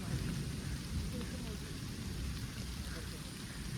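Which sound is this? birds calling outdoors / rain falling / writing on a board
rain falling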